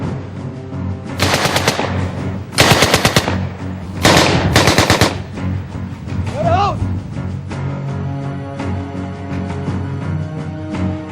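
A German submachine gun, a World War II era machine pistol such as the MP-38 or MP-40, fires loud sharp automatic bursts, four main volleys with brief gaps, over a steady low background.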